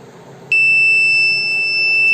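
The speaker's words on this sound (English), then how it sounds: "You can clearly see that a buzzer is beep and orange LED is glow." A buzzer on an IoT flood monitoring and alert system, triggered as the water level rises, starts abruptly and holds a loud, steady high-pitched electronic tone without a break.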